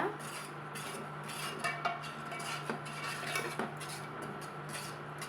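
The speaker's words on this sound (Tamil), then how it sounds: "நல்லா ஒரு கொதி வர வரைக்கும் கலந்து விட்டுட்டே இருக்கணுங்க" A spoon stirs milk in a pot as it heats toward a boil, making repeated soft scrapes and light metal clinks against the pot over a steady low hum, close and fairly quiet.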